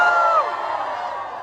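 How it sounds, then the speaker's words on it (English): A concert crowd at a live show in Mumbai cheers and whoops loudly. The cheering is strongest for the first half second, then settles into a softer sustained roar. "can we have a big cheer for each and every one of you?"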